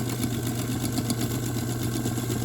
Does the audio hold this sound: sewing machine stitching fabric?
yes